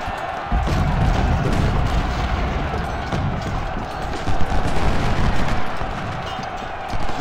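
Cannon artillery fire in the Civil War strategy game Ultimate General: Civil War, a dense continuous rumble of booming shots and thuds that carries on for the whole stretch without letup.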